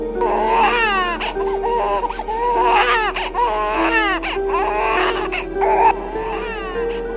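A newborn baby cries loudly and close, repeated wailing bursts with brief breaths between them, over a steady low hum and no talk.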